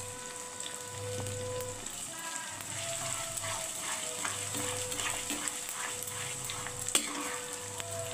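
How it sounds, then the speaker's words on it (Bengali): Mango pickle with sugar being stirred and fried in a pan, a continuous low sizzle with repeated scraping stir strokes in a loose rhythm and one sharper knock near the end, no talking. "এবার একটু কষাতে থাকি।"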